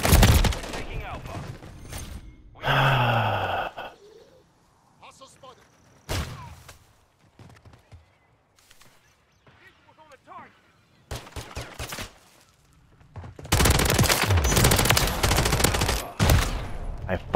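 Rapid bursts of video game gunfire during an objective-capture match, loud volleys near the start and in the closing seconds, with quieter scattered shots and gaps between, while a player talks over parts of it.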